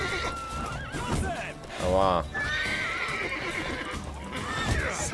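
A horse in The Witcher 3: Wild Hunt lets out a single clear whinny midway, with clip-clop hoofbeats and game sounds around it and someone talking over the scene.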